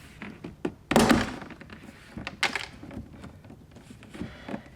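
A door panel on an Aston Martin Rapide is pried off, its metal clips letting go with a loud thunk and a few smaller pops and knocks, close by with no talk.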